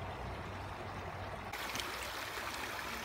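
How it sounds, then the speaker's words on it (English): Creek water flowing and trickling between loose rocks in a small creek bed, a steady close broadband wash that brightens partway through as the flow noise grows louder. "Now we're down by this little creek bed where the stream's passing between a lot of loose rocks"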